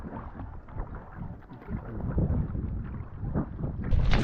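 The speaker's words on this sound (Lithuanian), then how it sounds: "Vėjas sukilęs." Gusty wind rushes around a sea kayak being paddled from Nida toward Klaipėda, a steady rumbling buffet close to the microphone that swells louder near the end, with no talk.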